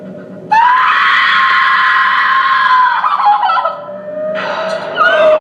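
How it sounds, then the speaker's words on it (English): A woman in a slasher film screams in anguish, a loud, sustained, piercing cry that wavers and breaks, dips briefly, then surges again before cutting off abruptly. "Lorraine's scream of anguish at the sight of RJ's hung and desecrated corpse"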